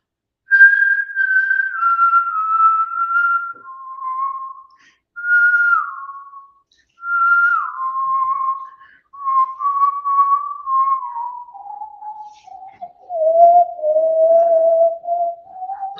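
A man whistles a slow, wistful piano melody, clear and close, in gently descending phrases separated by short pauses for breath.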